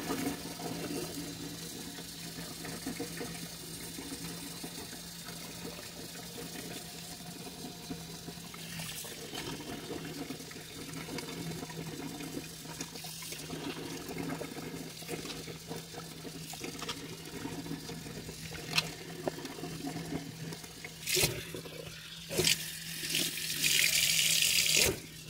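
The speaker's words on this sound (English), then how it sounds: "You just rub it with that soapy water and it comes right off." Tap water runs steadily into a sink while canning jars are scrubbed with soapy water, with occasional clinks and scrapes of glass and a louder gush of water near the end.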